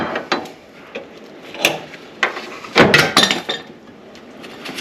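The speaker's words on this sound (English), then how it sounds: "I'm gonna go ahead and put it in place with a clamp here" A clamp being fitted and tightened on a cut Jeep Liberty part, producing a series of sharp metallic clicks, clinks and ratchety knocks, some in quick clusters, close by.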